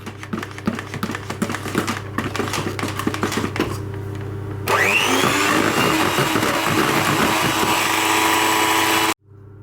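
Flour being stirred into yogurt cake batter in a bowl with a utensil, a run of quick scraping, tapping strokes that turn into a steady louder whir for several seconds before stopping abruptly.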